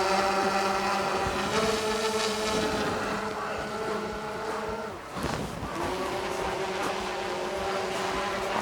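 An Autel Evo 2 drone fitted with low-noise propellers flies overhead, its steady, fairly loud tonal whine holding throughout with a brief dip in the middle, mixed with some wind noise.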